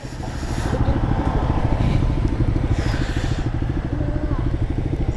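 A Bajaj Pulsar 125 motorcycle idles and crawls through a turn on a rough, potholed road, its close, loud engine thrumming in a steady rapid pulse with some rattling over the top throughout.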